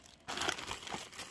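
Thin plastic vinyl bag crinkling as it is handled for washing and reuse, a steady close-up rustle that starts abruptly and keeps on in irregular crackly bursts.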